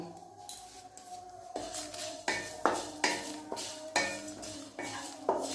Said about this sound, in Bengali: আমি প্রথমে এই গোটা কাঁচা মৌরি আর কাঁচা ধনেটা গরম কড়াতে একটু ভেজে নেব।